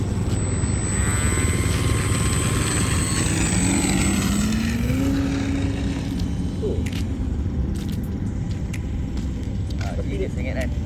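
A small Eachine mini P-47 RC warbird plane flies on its maiden flight, its electric motor and propeller making a steady buzzing whine that rises and falls in pitch as it passes, with people talking over it.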